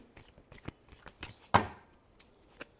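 Tarot cards being shuffled, soft riffling and slapping bursts with one sharper card slap in the middle, close and quiet with no talk.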